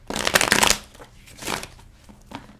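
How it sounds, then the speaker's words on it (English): Tarot cards shuffled by hand, with a long riffling burst followed by two shorter shuffles, close and crisp with no talking. "just going to get a few more good shuffles in here"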